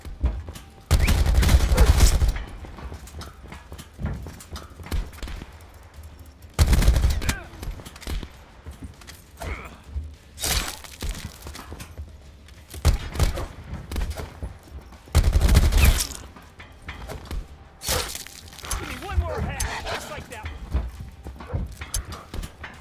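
In Call of Duty Black Ops 4, a sentry turret fires repeated bursts of rapid automatic gunfire. Loud sustained volleys recur every few seconds over busy game noise and scattered shots.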